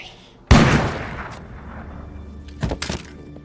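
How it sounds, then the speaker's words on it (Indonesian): A single sharp gunshot bursts out loud and close in a tense film scene, a handgun fired by a young man, followed by a long decaying rumble and then a couple of fainter thuds or movements about two seconds later. "Jack tiba-tiba muncul dan menembakkan senjata milik ayahnya"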